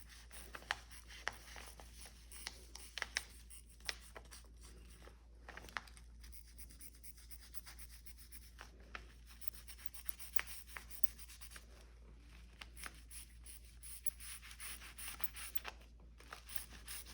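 Pen or marker tracing pattern edges onto faux fur backing, soft scratchy strokes in uneven bursts with brief pauses, quiet and close over a low steady hum.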